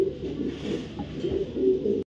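Racing pigeons give soft, throaty coos in a short close burst, rising and falling twice before cutting off, with nothing else heard.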